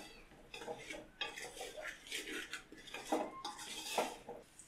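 Jackfruit biryani masala with slit green chillies gently mixed in a pot, a spoon scraping and clinking against the metal in soft, irregular strokes, close and fairly quiet.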